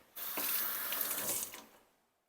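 A kitchen tap runs while hands are rinsed: a short, steady gush of water that starts abruptly, holds for about a second, then tapers off as it is shut.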